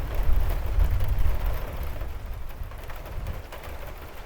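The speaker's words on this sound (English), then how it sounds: "There's another flash here, so let's wait for the thunder." Thunder from a storm at the Dutch coast rolls in as a deep, heavy rumble, loudest at first and fading into a broad wash of wind and rain.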